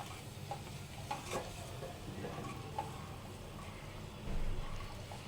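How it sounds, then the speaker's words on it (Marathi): A spoon stirs salted water in a cooking pot while making paneer cheese balls, soft irregular scraping and clinking strokes over a low background hiss, fairly quiet with no talk. "हे सगळं एकदा छान ढवळून घ्यायचं आहे"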